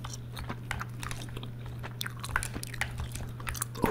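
Close, wet gum chewing sounds off in a quick irregular rhythm of smacks and squishes during a Fortnite match, with a steady low hum and faint controller clicks underneath, no talking.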